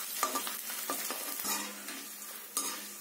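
Edible gum (gond) frying in a kadhai over a low flame for wheat panjiri, a steady soft sizzle with repeated stirring scrapes and a couple of sharper knocks against the pan.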